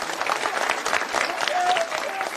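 A crowd at a political speech in Parli applauds: thick, continuous clapping with scattered voices murmuring in the mix.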